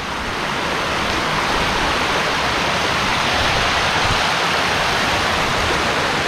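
A river flowing in the Ambabarwa sanctuary area near Mangeri Mahadev, Buldhana, a broad, steady rush of water that stays loud and close throughout with no voices over it.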